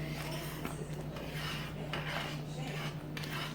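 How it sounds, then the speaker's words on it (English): A utensil scrapes and rubs against a pan while food for a Mexican-style breakfast is stirred, making repeated gritty strokes over a steady low hum. "You just keep stirring it."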